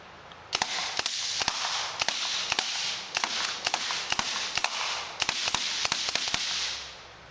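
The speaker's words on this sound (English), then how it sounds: "I'm only going to be shooting about 7 rounds" Shots are fired at a target with the Project Salvo, producing a fast, irregular string of sharp, loud cracks over a steady background hiss.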